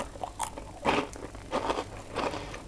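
Crunchy battered sweet and sour chicken ball, dipped in sauce, bitten into: a few crisp, crackling bites and chews in quick succession, close up and loud, with no talking.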